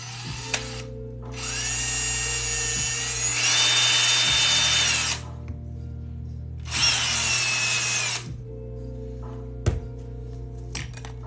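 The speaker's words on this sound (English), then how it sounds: "Alright, so let's drill." A power drill bores through leather for a handmade hexagon tray, running in two long whining bursts with a brief pitch shift in the first. Quiet clicks and handling knocks fall between the bursts and after them.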